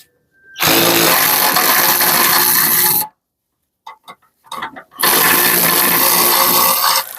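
A power tool with a socket and extension spins off a tow hitch receiver bracket bolt on a Kia Spectra, running loudly in two long bursts separated by a pause with a few small clanks.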